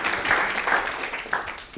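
Audience applause at a conference on scaling digital platforms, a short burst of dense clapping from a nearby crowd filling the whole moment at a fairly loud level.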